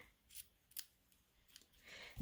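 Scissors snip through a piece of ribbon during a papercraft card project with adhesive sheets, a few sharp close metallic cuts spaced irregularly over a quiet background.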